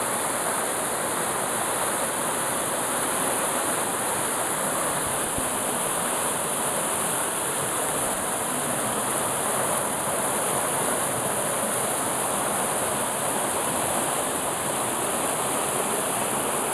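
A waterfall in Caconde, São Paulo pours in a steady, loud, unbroken roar of rushing water that fills the whole stretch without any pause or talking.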